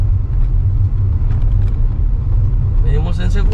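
Car engine in second gear while driving toward a speed bump, a loud steady low rumble close by, with a brief rattling clatter near the end.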